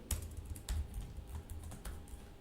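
Typing on a computer keyboard, a steady run of close, crisp key clicks in uneven bursts with no voices.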